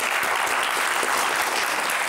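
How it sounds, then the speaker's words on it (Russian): Studio audience applause on a Russian career-guidance talk show, a dense, steady wash of clapping from many hands, loud and close, with no speech over it. "Аплодисменты."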